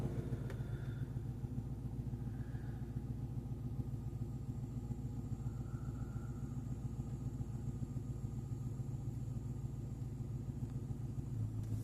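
A Dodge Daytona idles steadily while warming up, a low, even engine rumble that holds constant for several seconds with no revving, fairly quiet and heard on its own.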